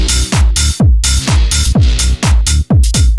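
Pounding electronic beat where an open hi-hat rings out long and hissy between punchy kick drums, loud and steady, with no voices.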